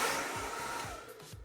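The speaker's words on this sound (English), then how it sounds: "Rotate the blow dryer if you desire" A blow dryer runs loudly while drying and bevelling a full fringe with a round brush, a steady rushing whoosh that fluctuates as the dryer is rotated, with no talking.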